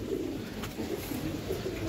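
A pair of tournament Giribaz racing pigeons coo in a low, continuous burble close by, with steady background hiss and a brief sharper sound at the end.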